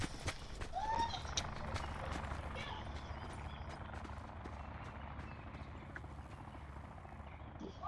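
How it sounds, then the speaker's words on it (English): A helicopter comes in to land in the video game Call of Duty: Black Ops 4, a continuous broad rotor rumble mixed with other game noise, steady across the whole stretch. "the chopper is landing at..."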